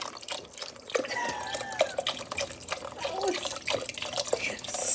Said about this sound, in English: we grabbed some chicken broth and poured it over the shroom onion mixture